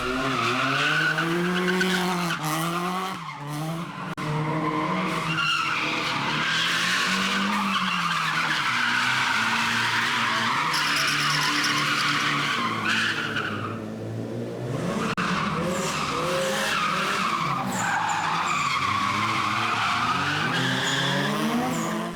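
Tires squeal and skid in long wavering bursts over a revving engine, loud and continuous as a car slides through turns.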